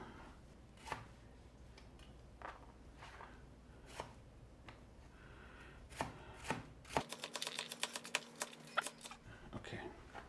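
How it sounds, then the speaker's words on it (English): A knife slices down through an onion on a cutting board, making a series of close, crisp taps and crunches, sparse at first and then quicker, with quiet surroundings. "And then we start cutting straight down."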